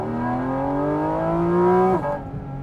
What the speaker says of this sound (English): you not only get the sound from the intakes, but you get that motor right there behind you